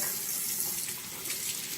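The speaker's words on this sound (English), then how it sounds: "So I'm going to wash my face real quick." Tap water runs steadily into a sink for face washing, a continuous close hiss with no talking over it.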